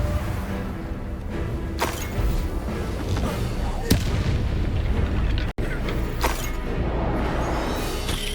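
Confringo fire spells explode in Hogwarts Legacy combat, several sharp booms and cracks punctuating a dense, continuous battle din, with a voice shouting spell names.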